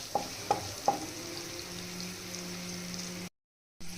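Crushed garlic, ginger and green chillies tossed into a hot pan, a few sharp spoon knocks early on over a steady frying hiss, then a low hum beneath the sizzle before a brief dropout.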